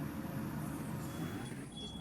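A Leyland Victory MKII bus in the OMSI 2 simulator drives along with a steady low engine drone and road rumble, followed by a brief high whine near the end.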